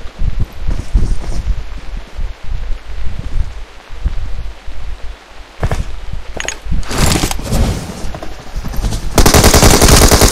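Sustained automatic gunfire from an MK auto rifle and an M416 in an online battle-royale shooter's final circle, dense bursts crackling close and loud throughout, with sharper heavy volleys near the end and no talk.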